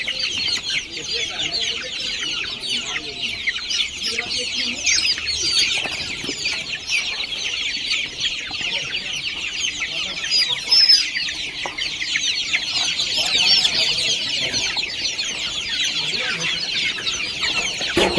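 Desi village chickens in their enclosure keep up a steady, busy clucking chorus throughout, with occasional wing flaps and a slightly louder burst midway.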